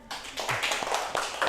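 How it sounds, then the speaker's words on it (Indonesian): Classroom group applauding a student team after a microteaching presentation, a brief patter of claps from a small group, fairly close and continuous for about a second and a half with no talk. "Beri tepuk tangan ya."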